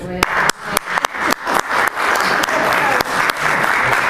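A classroom group breaks into brisk, steady applause, a dense patter of many hands clapping close by for a few seconds.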